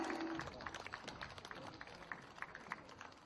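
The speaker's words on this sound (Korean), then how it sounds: "박수 보내주세요." An audience at a Gyeongsan charity concert claps for a singer, a thin, modest patter of hand claps at some distance that fades over a few seconds.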